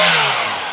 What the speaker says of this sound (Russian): Как мотор работает.